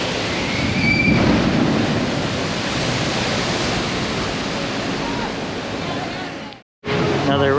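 A theme park water-ride boat splashes down after a 60-foot drop, producing a loud, sustained, roaring wash of water that fades slightly, then cuts to a brief pause and a voice.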